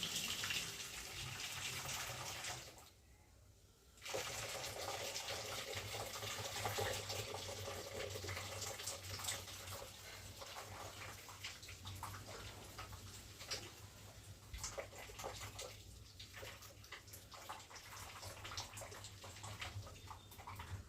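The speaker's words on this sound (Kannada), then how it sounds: "ಇವೇನು ನೀರು ಇರ್ತಾವಲ್ಲ ಇದನ್ನ ಬಸ್ ತೆಗೆದಿಲ್ಲ ರೀ." Hot water poured off boiled greens as they are drained gives a continuous splashing, rushing pour, briefly broken by a short pause and otherwise steady and fairly faint throughout.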